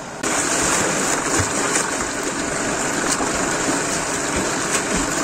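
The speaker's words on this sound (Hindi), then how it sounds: "मैं यहाँ पे जो डुबकी लगाता हूँ और नहाता हूँ।" A man wading and dipping into village water to bathe: a sudden splash onset followed by continuous rushing, churning water noise, close and fairly loud throughout, with no speech.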